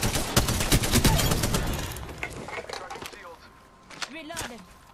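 Rapid video-game gunfire bursts dominate the opening seconds, then thin into scattered shots and effects, with players talking over the action.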